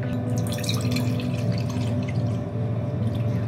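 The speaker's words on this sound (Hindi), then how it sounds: "अब इसमें बिल्कुल ठंडा पानी डालेंगे।" Cold water pours into a mint lemon juice drink, a loud continuous splashing trickle that runs unbroken and close, with no talk.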